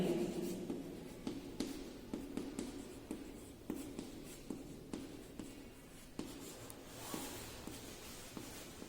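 Marker or chalk writing on a board during a worked numerical problem on machine hour rate, a steady run of short scratchy strokes and taps, close and fairly quiet, with no talking.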